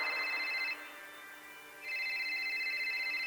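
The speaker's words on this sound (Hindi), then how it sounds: "सुबह के 5 बजे जानवी के पापा प्रकाश कुकरेजा के फोन की घंटी बजी" A telephone bell rings in two bright, close electronic bursts separated by a short quieter gap, with no voices.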